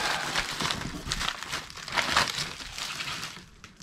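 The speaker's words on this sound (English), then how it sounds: "there was lots of tissue paper in the box" Tissue paper inside an unboxed resale package crinkles and rustles close by in bursts of crisp, papery crackling, with no talk.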